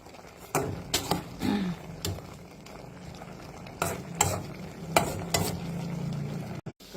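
Green vegetables are fried over high heat with a steady hiss, while a spatula scrapes and clacks against the pan in irregular bursts.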